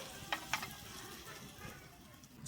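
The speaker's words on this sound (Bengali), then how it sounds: "এবার আমি কড়াইতে সর্ষে তেল দিয়ে দিয়েছি আমি রান্নাটা কিন্তু সর্ষে তেলেই করে নেব আমার তেলটা গড়ছি হিং আমি এখানে হিং নিয়েছি" Asafoetida frying in hot mustard oil in a wok, a soft steady sizzle with a few brief crackles, close and low in level, with no talking.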